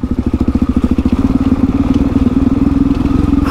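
A motorcycle rolls down a steep hill on a rugged high-country track, its engine thumping in a steady fast pulse with clattering from the rear wheel dragging, close and loud throughout.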